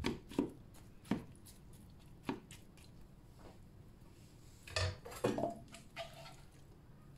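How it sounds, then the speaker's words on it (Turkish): Boiled cauliflower in a glass baking dish is pressed and crushed with a spoon, giving soft irregular taps and squishy thumps at close range, some in quick clusters. "Şöyle biraz çok iri olanları azıcık kaşık darbeleriyle ezelim."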